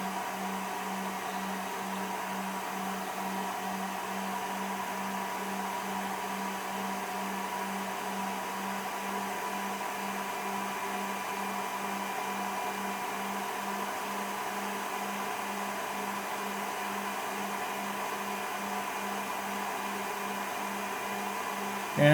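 The cooling fan of an FD-200 battery discharger whirs steadily like a hairdryer, a constant broadband rush with a faint pulsing hum underneath that holds unchanged for about twenty seconds.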